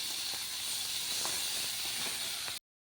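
Fish curry broth boiling in a pan for a small-fish spicy curry, with a steady close hiss and faint bubbling pops sounding alone for about two and a half seconds before cutting off.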